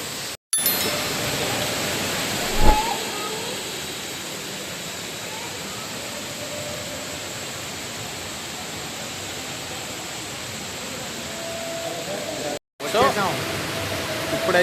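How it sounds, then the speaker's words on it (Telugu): Indoor waterfall inside Dubai Mall, a steady broadband rush of falling water filling the space at moderate loudness throughout, with faint crowd murmur and a brief clink near the start. "ఇదిగోండి దుబాయ్ మాల్లో అయితే ఈ ఫాల్స్ ఉంది."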